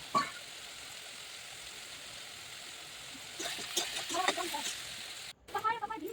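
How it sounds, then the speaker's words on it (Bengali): Onions fry in oil with a steady hiss and crackle, spattering louder partway through, with a brief cut near the end before the sizzle resumes. "পেঁয়াজ ভাজা হয়ে গেল"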